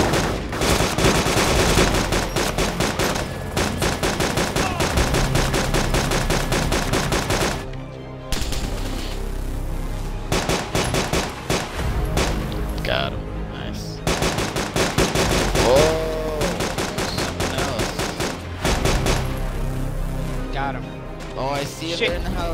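Rapid automatic gunfire in the video game DayZ, long bursts of loud shots with brief pauses and scattered single cracks, continuous across the stretch.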